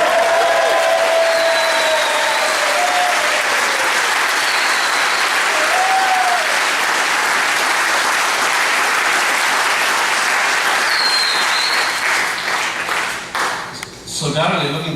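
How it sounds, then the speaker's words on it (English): A crowd at a celebration gives a long, loud round of applause and cheering with whoops for the hosts, steady and dense before tapering off near the end. "So let's have a cheer and a round of applause to Leslie and Brenda."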